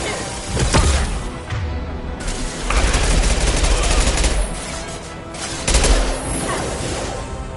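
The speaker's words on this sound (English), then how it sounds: "Taking heavy fire." Heavy gunfire in Mass Effect 2 Legendary Edition, loud and close, with overlapping bursts, crashing impacts and booming hits rolling on without pause, with a faint voice underneath.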